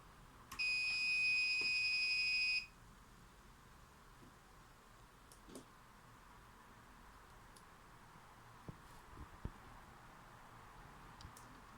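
A buzzer module on a motion-sensor room alarm sounds a steady high-pitched electronic tone for about two seconds, then stops, leaving a quiet room with faint clicks.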